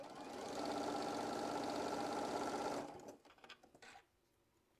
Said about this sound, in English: And stitch down.